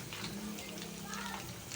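Steady bubbling sizzle of chicken afritada sauce boiling in a pan, a continuous soft crackle with a low hum running underneath.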